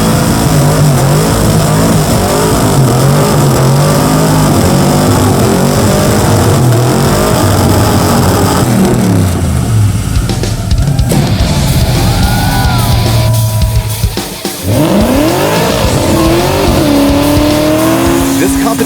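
A Mopar Hemi-powered 55 Chevy Gasser does a tire burnout at a competition, its loud revving engine roaring continuously with squealing tires and shifting pitch, while voices talk over the din.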